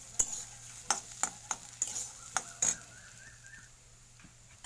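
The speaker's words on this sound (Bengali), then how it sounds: "দুটো ডাল মিক্স করে দেওয়া হলো। একদম অল্প সময় এটাকে ফ্রাই করা হবে।" Two mixed dals frying briefly in a pan, heard as a faint steady sizzle broken by a string of sharp spoon or spatula clicks against the pan over a low background hum.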